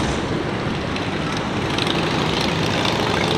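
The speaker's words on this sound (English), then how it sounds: "that's all the bike sounds since 5 in the morning" Motorcycles passing along the main street during Ocean City bike week, a dense, loud, rumbling roar that fills the whole stretch without a break, no distinct passes or voices standing out.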